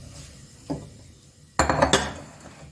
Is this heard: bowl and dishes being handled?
yes